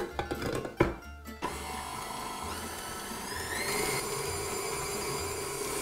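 Electric mixer running at medium speed through melted butter and two large free-range eggs for tiramisu cupcake batter, a steady close whirring hum after a few clunks and scrapes at the start.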